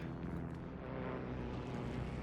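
Inside a video game, an airplane drones overhead, a low steady engine hum that holds at moderate distance for a couple of seconds with no talk.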